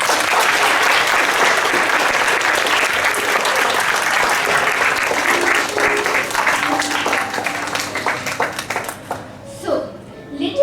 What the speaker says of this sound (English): let us give a huge round of applause to our best friend, our mentor, our well-wisher